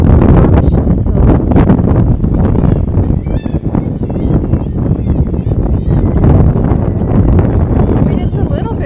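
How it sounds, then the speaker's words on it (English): Steady wind buffets the microphone throughout, a constant low roar with occasional bird calls and people talking in the background. "it's a little bit windy"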